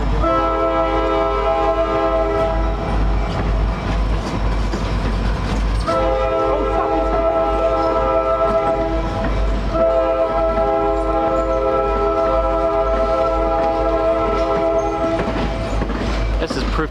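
A train rumbles past nearby with its horn sounding in long, loud blasts, separated by brief gaps, over steady rolling clatter.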